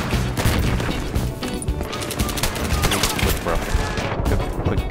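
Rapid automatic fire from an AUG assault rifle in Battlefield 3, dense and loud, with overlapping shots and impacts running through the whole stretch.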